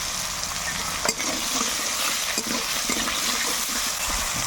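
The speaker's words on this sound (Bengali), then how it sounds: "আলু একটু ভাজা ভাজা করে নেব" Steady broadband sizzle of salted potatoes frying in a pan, with a few louder scrapes of stirring, continuous and close.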